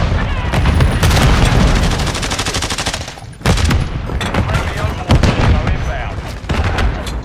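Call of Duty Modern Warfare 3 hardcore domination match with loud, close machine-gun fire in dense sustained bursts, brief gaps, and heavier booms mixed in, with shouting voices over the din.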